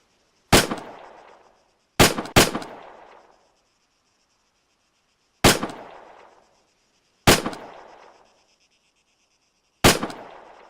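Six sharp gunshots ring out one at a time at irregular intervals during personal weapons training on a firing range, each a loud, close crack with a short decaying tail, two fired in quick succession.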